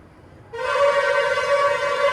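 A loud, steady tonal blast like a train horn or whistle starts abruptly and holds without a break, close by, at a railway station beside a road where trains constantly pass.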